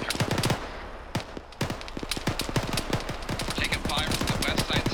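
Rapid bursts of gunfire in a military simulation game, a dense volley of sharp cracks and automatic fire at close to middle distance, with a brief lull before the shooting resumes steadily.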